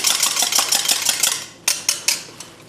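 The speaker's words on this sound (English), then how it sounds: "I've broken an egg into the jug, quickly whisk that up" An egg gets whisked in a jug, a fast, close, even run of bright metallic clicks that slows into a few separate taps.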